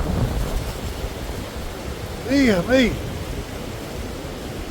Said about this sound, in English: this wind is pretty bad